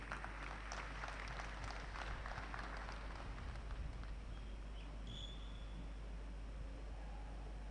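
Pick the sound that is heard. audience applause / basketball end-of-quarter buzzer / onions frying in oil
audience applause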